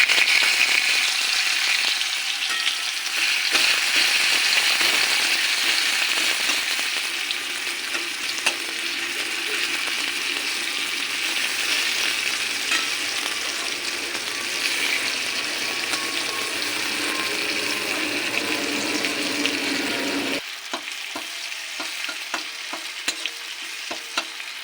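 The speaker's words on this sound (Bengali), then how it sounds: "এবার দিয়ে দেবো গরম তেলে পেঁয়াজ কুচি।" Chopped onion fries and sizzles in hot oil in a home kitchen while potato curry is being cooked. A steady, dense frying hiss runs throughout with occasional stirring, then drops slightly near the end.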